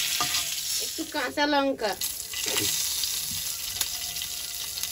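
Black cumin seeds and two bay leaves frying in hot oil, with a steady close sizzle under a brief burst of speech in the middle.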